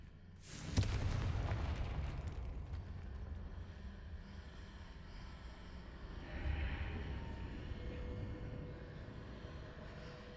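A Confringo explosive spell in Hogwarts Legacy lands with one loud, sudden boom that decays into a long rumbling tail, then a softer second swell follows.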